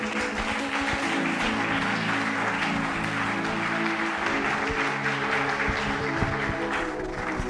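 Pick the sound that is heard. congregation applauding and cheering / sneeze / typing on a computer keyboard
congregation applauding and cheering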